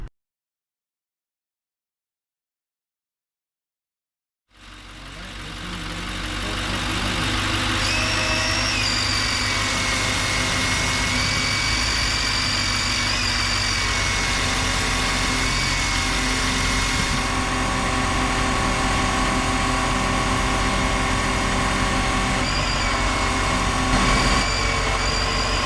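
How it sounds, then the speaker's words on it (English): An Infiniti QX80 engine idles after several seconds of silence, a steady, even hum with a faint high whine heard from close by beneath the vehicle during a transmission fluid change. "now I'm going to leave the vehicle running"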